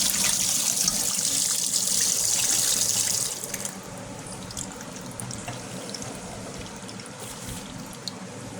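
A fish head is rinsed under running tap water, a strong close splashing stream for about three seconds, then quieter trickling and dribbling with a few faint knocks.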